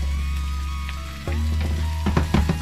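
Onions for liver and onions fry in a pan with a steady loud sizzle, followed by rapid scraping and tapping of a utensil as they are pushed around, close and clear with no speech.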